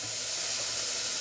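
Onions fry in oil in a brief burst of steady, close, hissing sizzle without any voices.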